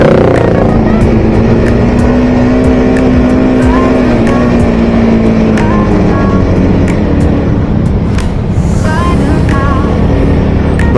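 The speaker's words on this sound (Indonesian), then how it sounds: "kalau kalian dengar suara motornya agak kurang enak" A Honda CBR 150R K45A motorcycle engine runs steadily while being ridden on city roads in Bandung, its note sounding somewhat rough, loud and close, with a droning tone that shifts slightly in pitch and faint clicks over the top.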